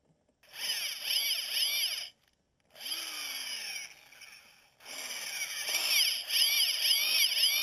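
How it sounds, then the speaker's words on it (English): A power drill fitted with a bit extender bores through a tree limb in three sustained bursts, whining and grinding with brief pauses between runs. "The trick is not to let the drill bit get stuck in the limb"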